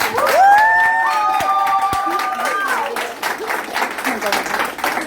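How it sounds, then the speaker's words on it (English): Audience applause welcoming a guest speaker at a testimony event: loud, dense clapping that starts at full strength and holds steady, with a voice talking and calling out over it, then thinning slightly toward the end. "Would you give a warm welcome and an applause to Dr. Kathy Kirkland?"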